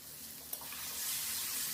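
Fish dropped into hot spiced oil for traditional tel koi, a steady loud sizzle and frying hiss that swells after a brief splash and continues alone.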